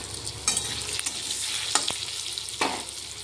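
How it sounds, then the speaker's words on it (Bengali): Potato pieces frying in hot oil after aubergine, a quiet continuous sizzle broken by a few sharp scrapes and clinks of a spatula against the pan. "এখন আমি আলুগুলো ভাজতে দিয়েছি।"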